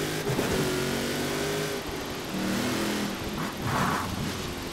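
A Ford Ranger Raptor pickup's engine revs and accelerates in the racing game Forza Horizon 4, a steady mid-pitched drone that climbs and shifts through gears, loud and continuous with no talk.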